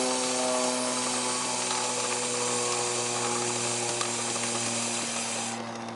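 A steady mechanical whir of a motorcycle chain spinning after a spray of chain cleaner, with a faint ticking rattle, runs continuously, close by, then cuts out near the end.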